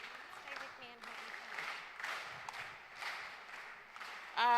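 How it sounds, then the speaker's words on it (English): Audience applause at an ActionAid Women I Toktok Tugeta Federation launch: a sustained crowd clap that swells and dips in waves for several seconds, then a louder burst at the very end. "You make it one big power clap for him."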